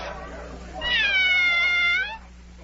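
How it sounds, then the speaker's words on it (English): The Cheshire Cat from Alice in Wonderland gives a single drawn-out meow, close and clear, standing alone in a brief pause. "Oh, it's the Cheshire Cat."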